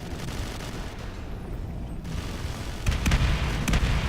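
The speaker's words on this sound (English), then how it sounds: "Oh, even the grenades going out?" Grenade explosions and gunfire in the video game Halo, played as a competitive match on the map Veil: a rumbling mix of distant booms and rattling shots, swelling into louder bursts near the end.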